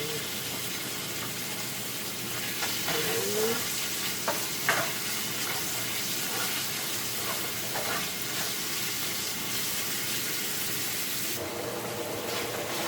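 Chicken sautéing with garlic and onion in a pan for pancit gisado, a dense continuous sizzle with scattered stirring scrapes and clicks, close up and steady throughout.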